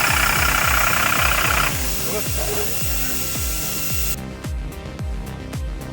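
A STIHL MS 46 chainsaw runs steadily with a rough, buzzing engine drone, biting repeatedly into wood in a rhythmic series of cuts; close and loud.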